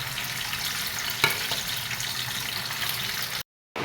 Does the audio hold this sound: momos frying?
yes